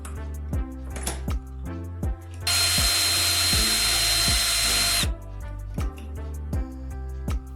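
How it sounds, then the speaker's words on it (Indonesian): A power drill bores a hole through a cut piece of hot glue stick in one sustained whine lasting a few seconds, with rhythmic clicks and taps before and after. "Bor lubang di tengah setiap potongan agar pas dengan sekrup."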